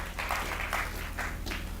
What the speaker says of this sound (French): Applaudissez très fort pour le Seigneur Jésus.